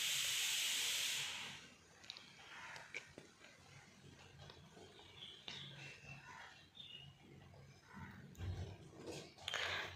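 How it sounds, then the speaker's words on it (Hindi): Homemade sweets deep-frying one by one in oil over a medium flame: a loud hiss at first, then a quieter bubbling crackle with small pops and stirring scrapes, faint and close. "अपने जो मिठाई हमने बना के रखी है उसको इसमें डालेंगे तलने के लिए एक एक करके मीडियम फ्लेम पे ही तलिएगा"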